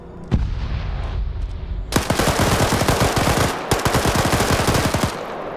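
Loud, close automatic fire from an AK-74 rifle in a PvP video game match, with a single shot followed by long rapid bursts of rattling gunfire that fill most of the moment and a brief pause mid-burst.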